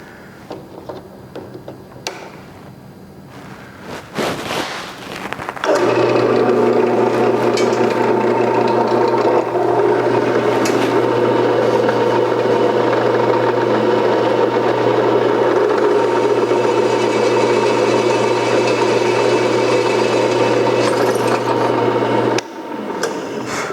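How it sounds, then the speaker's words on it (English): Drilling a pilot hole for a pivot plate with a 1/8 inch bit, a loud steady motor whir that starts after a few knocks and handling sounds, runs continuously for around seventeen seconds close by, then cuts off. "We're going to drill the first hole for the pivot plate."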